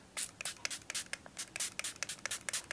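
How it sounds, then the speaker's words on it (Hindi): A Plum green tea face mist is sprayed onto a face in a rapid series of short, close hissy bursts, quiet and with no talking. "प्लम का ग्रीन टी फेस मिस्ट तो इसे मैं अच्छी तरह से अपने फेस पे मैं स्प्रे कर लूँगी"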